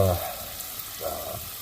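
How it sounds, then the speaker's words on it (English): Onions and garlic frying in a mix of butter and olive oil, giving a soft, steady sizzle with faint scraping swells, close and alone without talk. "Right now I've got some onions and garlic cooking up"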